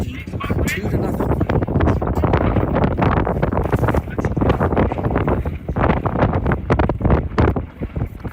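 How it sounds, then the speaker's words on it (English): A strong wind gust sweeps across a baseball field during a high school game, roaring and buffeting the microphone in a loud, constant rush for several seconds. "Strong wind gust here at the field"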